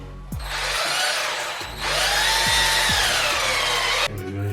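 A power drill drives a screw while a GROHE concealed shower and mixer are being installed: two loud bursts of steady whirring with rising and falling pitch, each begun by a short click and separated by a brief pause.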